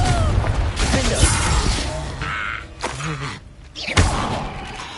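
Confringo explosive spell cast in Hogwarts Legacy, a series of game thumps, whooshes and crashing impacts with a brief lull before a final bursting hit, loud and close.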